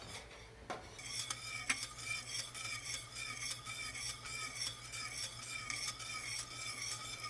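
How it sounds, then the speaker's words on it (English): Homemade teriyaki sauce is stirred in a pan: a spoon scrapes and swishes steadily and rhythmically against the metal, close and clear, with a soft simmering hiss underneath and a sharper clink near the start. "Now we're going to just start stirring and wait until it starts to boil"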